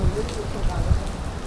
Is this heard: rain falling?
yes